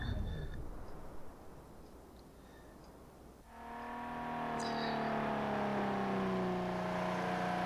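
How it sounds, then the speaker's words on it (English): A vintage Aston Martin engine in the racing game Project Cars 2 on a Scottish scenic drive: a soft wash of road noise gives way to a steadily rising, sustained engine drone that holds strong and close. "But that's the Aston Martin in Scotland."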